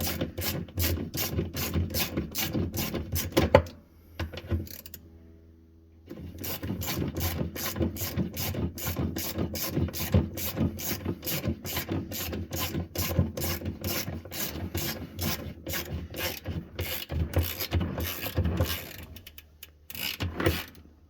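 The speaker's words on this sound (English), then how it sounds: "This one I just use a little 1/4 inch at 10." A 1/4 inch ratchet with a 10 mm socket tightens bolts on a Samsung washer clutch motor. Close, steady runs of fast mechanical clicking pause briefly, then start again.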